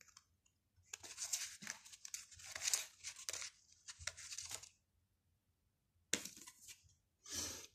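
An oracle card is drawn from a deck, producing several bursts of papery shuffling and sliding, close and soft with short pauses between them.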